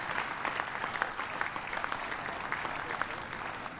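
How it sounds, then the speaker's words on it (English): Steady audience applause at a warship christening ceremony in a shipbuilding yard, honoring congressmen; dense, continuous clapping from a sizable crowd, even in level throughout. "So give them another round of applause for their hard work and dedication."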